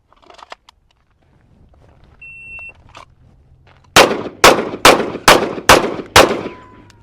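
Six rapid pistol shots from a Kimber Rapide 1911 crack out at a steady pace on a range, loud and close, preceded by a shot-timer beep and faint handling noises.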